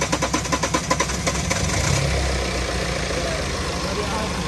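A flooded Ford engine catches and settles into a rough idle, opening with a rapid series of sputtering pulses before running steadily and loudly up close, with people talking over it.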